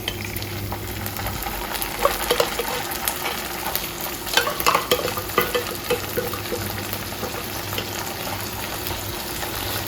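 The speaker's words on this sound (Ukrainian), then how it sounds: "Тепер підсмажую цибульку, я її дрібненько порізала. Тепер висипаю тунець." Finely chopped onion and canned tuna fry in a pan at home, giving a constant close sizzle with scattered scraping and stirring clatter throughout.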